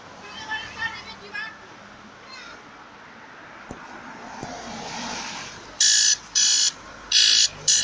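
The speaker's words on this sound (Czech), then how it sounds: "Já se omlouvám, to je budík." An alarm clock beeps in loud, regular bursts near the end, going off outdoors in a public space after muffled street noise and talk.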